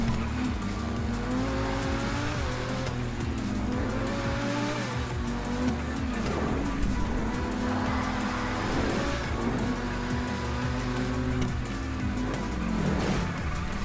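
Cars in the video game GTA 5 Online roar steadily with engine drone and tire squeal throughout, a continuous loud racing mix with no voices heard.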